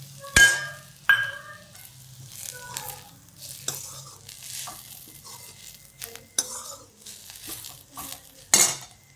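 Onion and grated coconut roast in a pan on the stove, with sharp clinks and scrapes of a spoon against the metal over a soft, steady sizzle, the strokes coming at uneven intervals.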